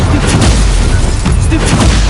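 Loud, dense magical blast from the Incendio fire spell in Hogwarts Legacy on PS4, a continuous roaring boom with crackling bursts that fills the whole clip.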